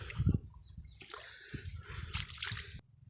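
Water on the Mekong River splashes and sloshes in short uneven bursts, close by, with a louder splash at the start and faint background noise throughout.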